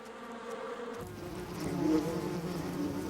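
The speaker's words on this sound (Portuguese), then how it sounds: "Eles persuadiram abelhas a voar por um grande túnel com listras pretas até um prato de" Bees fly through a large tunnel lined with black stripes toward a dish of sweetened water, their buzzing swelling louder after a quieter start and droning continuously nearby.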